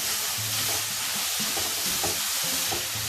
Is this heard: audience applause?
no